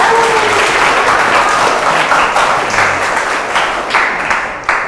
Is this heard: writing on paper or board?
no